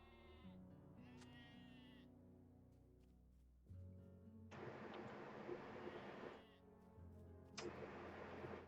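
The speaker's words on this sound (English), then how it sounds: "We're going to have all the sheep following us." Sheep bleat repeatedly in a game scene, their calls rising over a steady low engine-like drone and ambient background.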